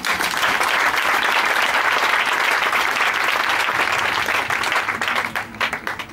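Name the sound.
congregation applauding in church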